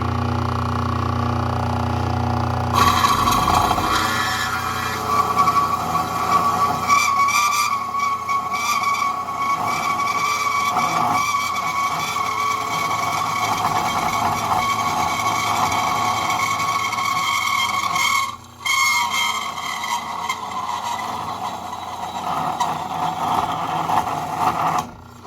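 Turned-down, drilled-out motorcycle barrel stubs being cut to 1.5-inch lengths for a monoshock triple tree build: a loud, continuous grinding, screeching cut with a persistent high ring, running for about twenty-five seconds with brief dips.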